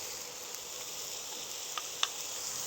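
Pesto and garlic sizzling in a hot pan as they are stirred, a soft steady hiss with a few faint clicks of a utensil against the pan.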